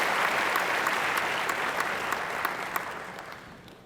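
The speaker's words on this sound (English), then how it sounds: "Give them a big round of applause" A hall audience at a railway project conclave gives a round of applause, dense clapping that starts loud and gradually fades over a few seconds.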